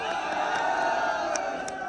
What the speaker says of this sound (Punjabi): ਤਾੜੀ ਮਾਰ ਦਿਓ